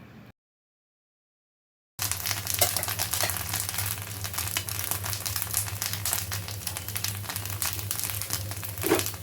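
Rice dosa batter frying on an oiled griddle, a steady close crackling sizzle that runs unbroken after a short silent gap, with no voices over it.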